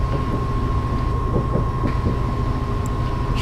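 A locomotive in Train Simulator 2015 runs steadily, with a constant low engine rumble, a sustained whistle-like tone and faint rail clatter, loud and unbroken throughout.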